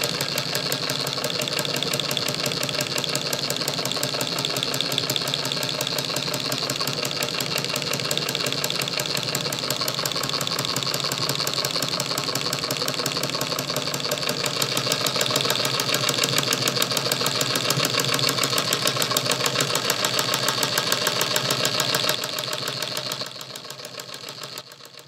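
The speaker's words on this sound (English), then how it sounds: "here's our genuine Singer machine." A genuine Singer 114W103 chainstitch embroidery machine runs steadily with an even mechanical whir and fast rhythmic knocking, moderately loud and unbroken, easing off at the very end.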